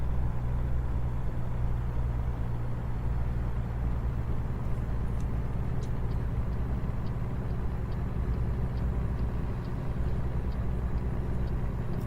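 A truck hauling 12 tonnes of clothes between Quebec and Toronto in American Truck Simulator gives a steady, loud low engine drone and road rumble that holds without break, with faint clicks above it.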